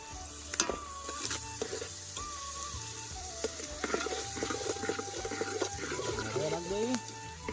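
Chilies and then tomatoes sizzle steadily as they drop into hot oil for a Kathiyawadi desi brinjal olo, a constant frying hiss with stirring knocks while a voice talks over it.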